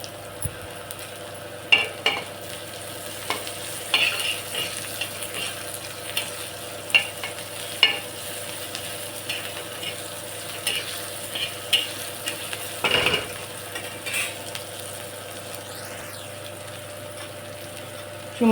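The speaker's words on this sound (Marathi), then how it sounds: "कांदा छान फ्राय होऊन देऊ गुलाबी रंगापर्यंत" Onions fry in a pan for a spicy semolina dish, a low steady sizzle with occasional stirring clinks and scrapes across a long stretch, no voices.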